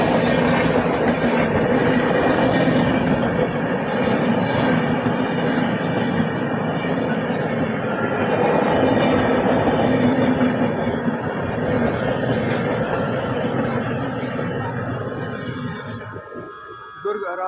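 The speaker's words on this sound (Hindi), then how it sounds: "टाटानगर शेड के WP7 के साथ दुर्ग आराध साउथ बिहार एक्सप्रेस अच्छी खासी रफ्तार में डिपार्चर हुआ बिलासपुर से" An express train hauled by a WP7 locomotive departing Bilaspur at good speed, a loud continuous rumble and clatter of passing coaches close by, steady throughout and easing slightly at the end.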